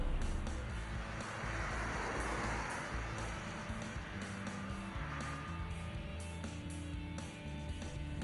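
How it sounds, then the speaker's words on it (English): Renault Twizy electric car steadily driving an obstacle course, a continuous close road and tyre noise with slight squeals, no talk. "Renault's laid out a little obstacle course for the Twizy here, and to be fair, the car handles it very well"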